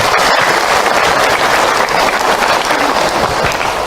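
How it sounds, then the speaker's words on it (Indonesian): Loud, sustained applause from a large crowd at an Isra Mi'raj religious lecture, a continuous wash of clapping with no pauses. "Tepuk tangan buat bunda semua yang ada."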